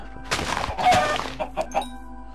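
Chickens in the Minecraft video game give a few short clucks, starting with a louder burst and trailing into brief, spaced calls, heard alone without talk.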